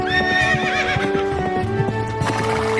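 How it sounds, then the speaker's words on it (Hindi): An Arabian horse clip-clopping with hooves striking in an uneven rhythm while it neighs and whinnies loudly in a long, wavering call close by. "दूसरे दिन सुबह ही शुक्ला जी एक शानदार अरबी घोड़ा किराए पर ले आए।"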